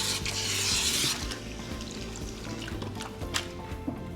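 Water runs and pours steadily while shampoo is rinsed out of hair extensions during a hair wash, a close continuous splashing wash that fades slightly after the first second.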